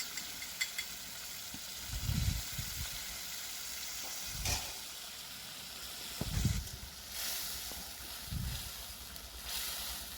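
Homemade sour yogurt poured into a hot frying pan for doi mach, a Bengali yogurt fish curry, giving a steady close sizzle broken by several louder low bursts of bubbling and stirring.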